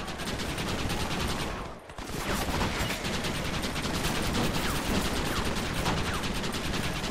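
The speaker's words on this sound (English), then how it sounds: "Me and this machine gun was a match made in heaven" Machine gun fire in Red Dead Redemption during a squad ambush, continuous rapid bursts of gunfire layered with other shots and game noise, loud and nearly unbroken apart from one brief gap.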